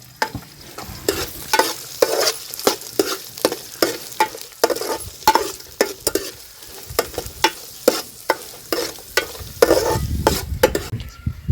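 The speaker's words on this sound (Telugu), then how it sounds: "ఉల్లిగడ్డలు, పచ్చిమిరపకాయలు వేసుకున్న తర్వాత కలుపుకుందాము." Onions and green chillies sizzle in a frying pan for bagara rice while a spoon scrapes and stirs in a quick, regular rhythm, close and loud, with no voices.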